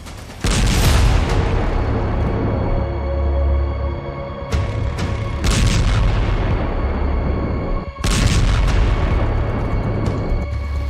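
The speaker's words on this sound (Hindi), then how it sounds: "बेरूत में भीषण धमाके, मारे हिजबुल्ला के 30 कमांडर।" Loud, sustained roaring blasts with heavy rumbling, broken by abrupt cuts and fresh bursts, like continuous nearby explosions, from bombing in Beirut.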